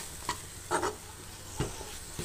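Spoon stirring murungakkai (drumstick) gravy with green chillies and coconut in a pan: a few short scraping strokes spaced apart, with a faint sizzle beneath, close and fairly quiet, no talk.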